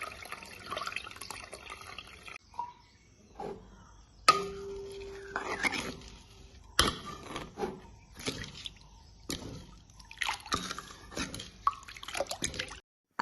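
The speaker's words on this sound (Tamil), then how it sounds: "இப்போ பாலை வடியால் தான் வடித்து விட போகிறேன்" Milk trickles through a sieve while rice halwa is being made, a soft, close dribbling and dripping broken by a few light clinks of the utensils.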